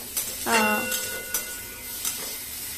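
Data (vegetable stems) frying in a pan, stirred with scraping and clinking strokes over a steady sizzle and hiss, close and moderately loud, with a short burst of heavier stirring early on.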